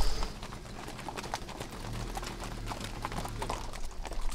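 A herd of horses trotting across open country during a traditional cavalcade in Rio Grande do Sul, Brazil, with steady clip-clopping hooves at moderate distance under a continuous rustling outdoor background.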